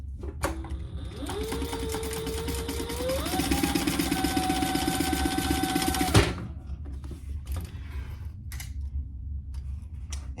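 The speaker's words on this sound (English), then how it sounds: "we are going to sew a 1/4 inch seam allowance." A sewing machine stitches a quarter-inch seam on a clutch wallet, its motor whirring up in two steps into a rapid, steady needle rhythm for about five seconds before stopping, followed by light handling clicks.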